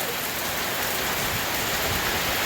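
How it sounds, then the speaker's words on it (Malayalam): Rain falls steadily on a garden of plants, a dense, even hiss of drops close by with no voices. "ഞങ്ങളുടെ ചെടിത്തോട്ടത്തിൽ മഴ പെയ്യുമ്പോൾ"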